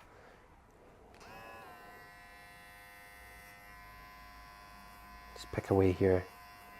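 Electric hair clipper buzzing steadily during a basic men's haircut, a close tonal hum running throughout, with a brief burst of louder speech near the end.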